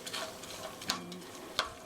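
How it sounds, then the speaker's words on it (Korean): Chopped scallions fry in oil over medium heat for scallion oil in jajangmyeon preparation, giving a soft, steady sizzle with a couple of sharp clicks of a utensil against the pan. "이제 파기름 내는 거예요."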